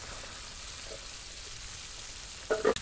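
Spiny gourd and prawns fry together in a pan in a village kitchen. A soft, steady sizzle hisses throughout, and a brief clatter of utensils comes near the end.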